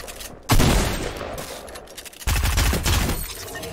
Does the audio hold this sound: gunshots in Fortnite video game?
yes